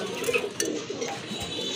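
A pair of large-sized pet pigeons for sale gives low, murmuring coos, faint and continuous against a dull room hum.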